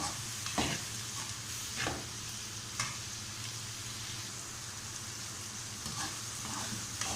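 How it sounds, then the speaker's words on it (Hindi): Vegetables sizzle steadily in a hot pan, with occasional scraping stirs and clinks over the constant frying hiss. "अब इनको थोड़ा फ्राई करेंगे"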